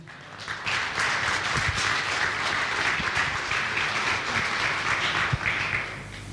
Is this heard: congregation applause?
yes